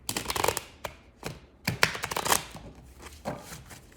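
Tarot cards being shuffled by hand, a series of crisp papery riffles and slaps in uneven bursts, close and fairly quiet with short pauses between.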